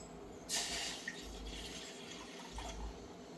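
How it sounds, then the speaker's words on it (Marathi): A glass of water is poured in two short splashing bursts while making an herbal kadha, soft and close, with a faint hiss between them. "एक ग्लास पाणी टाकायचं"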